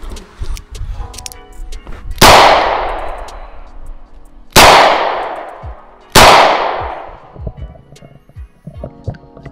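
Three loud, sharp gunshots from a Ruger LCR .38 Special revolver fired outdoors, each a sudden blast with a long decaying tail, spaced roughly two seconds apart over quiet background noise.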